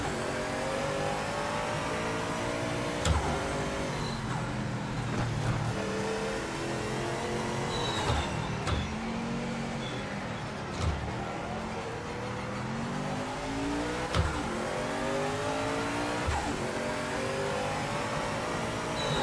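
Race car engines in the sim racing game Project Motor Racing, revving hard through repeated upshifts with rising pitch sweeps and brief shift gaps, loud and continuous across the whole stretch with no talk.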